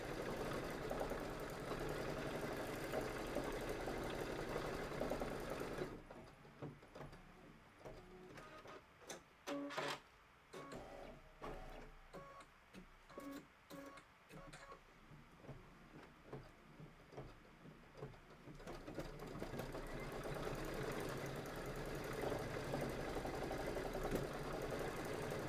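A sewing machine stitches fabric for a Kimberbell Cup of Cheer appliqué project, a rapid mechanical whirr with rhythmic needle clatter, starting and stopping in bursts over a steady background hum.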